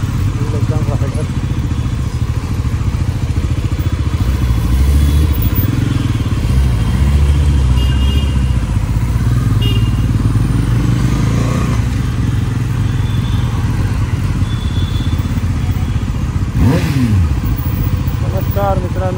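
A 2024 Bajaj Pulsar NS400Z motorcycle rides continuously, its engine a loud steady drone with wind rumble and a brief rising rev near the end, while a rider talks over it.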